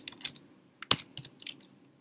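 Light, quick taps on a computer keyboard as a search is typed, a handful of soft keystrokes in an uneven rhythm, close and fairly quiet.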